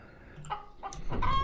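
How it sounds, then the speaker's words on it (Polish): Hens in the farming video game Farmer's Life give a few short clucks in quick succession, close and fairly quiet, with no talk over them. "I złapmy sobie jakąś kurkę"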